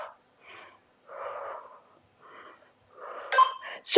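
A person exhaling forcefully through the mouth during a home HIIT cardio workout, a series of breathy puffs in an uneven rhythm, close and fairly loud, ending with a sharp higher sound.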